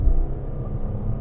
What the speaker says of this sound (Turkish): Birazcık motor sesi geliyor sanki.